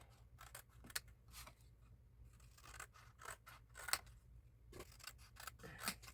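Scissors trim folded paper apart in a quiet room, a series of close, crisp snipping cuts coming in short bursts with a brief pause in the middle.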